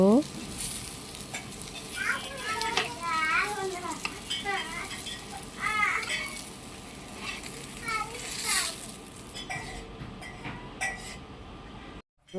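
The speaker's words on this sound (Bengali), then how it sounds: "বেগুনটা ভাজা হয়ে গেছে, এখন তুলে নিব।" Eggplant sizzling in hot oil in a frying pan in a home kitchen, a steady crackling fry with occasional stirring clinks, heard under continuous talk and children's voices before cutting off near the end.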